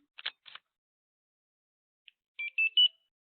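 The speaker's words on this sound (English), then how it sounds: "Those three beeps just let you know that there's power to the Motorola scanner." Two short electronic chirps, a pause, then three quick high-pitched beeps in a row from a Motorola barcode scanner on power-up, clean and isolated against silence.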